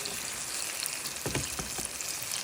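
Banana egg rolls deep-frying in hot oil at medium heat, a steady dense sizzle with scattered small pops and crackles, close up and alone.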